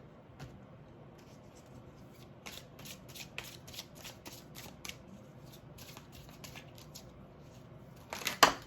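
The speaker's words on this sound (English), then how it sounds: "Whoa, that was a bad shuffle." Tarot cards are shuffled in quick riffling bursts, soft and close, repeated several times against a quiet room, ending with a sharper clatter as half the deck drops.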